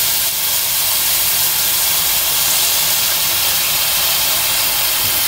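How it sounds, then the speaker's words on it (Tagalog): Soy sauce hitting a hot pan of pechay, a loud, steady, hissing sizzle that holds unbroken from start to finish with no voices. "Lagyan po natin ng konting toyo."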